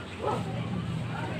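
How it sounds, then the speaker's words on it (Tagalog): A dog barks a couple of times at a distance, muffled under a person talking nearby. "ang aso kapag kumakahol sila, pag may dumadaan, hindi po nila kilala"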